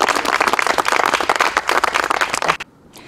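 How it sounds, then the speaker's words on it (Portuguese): Loud, dense studio applause for Jesus during a Brazilian TV news programme, continuous clapping that cuts off abruptly near the end, leaving near silence. "Vamos aplaudir Jesus bem forte?"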